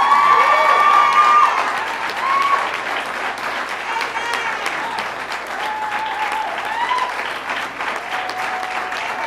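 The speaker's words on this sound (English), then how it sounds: "Another round of applause for the men and women of law enforcement." Applause for law enforcement officers fills a room at a state governor's press conference. The dense, loud clapping comes with some cheering and crowd voices, then eases slightly and carries on steadily.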